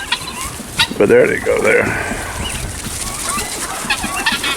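Hens clucking on a homestead farm near their coop, mixed with other fowl like turkeys and guineas, brief bird calls scattered through the clip while someone speaks over them nearby.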